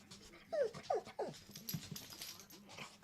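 A dog whimpers and whines to be let outside, giving several rising, high-pitched cries close by at low volume, followed by soft panting and shuffling.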